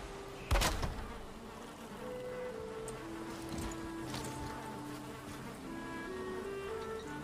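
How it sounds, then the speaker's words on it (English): Bees buzz around a beehive in the game Valheim, a soft continuous drone with a brief sharp knock near the start and a faint wash of ambient noise behind it. "Bees are happy."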